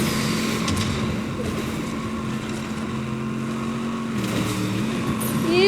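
Engines drone and shift pitch as vehicles drive about in Fortnite, a steady motor hum with a few rises, ending in a louder burst.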